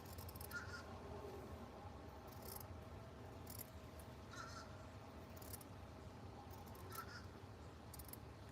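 A crow caws repeatedly outdoors, short harsh calls coming in spaced bursts over a steady background hum, moderately near and clear with no talking.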